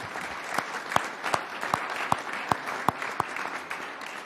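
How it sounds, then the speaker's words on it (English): Sparse applause at a Plymouth, Massachusetts select board meeting, with a handful of distinct sharp claps standing out over a thin, fairly quiet background of scattered clapping. "you guys deserve a round of applause"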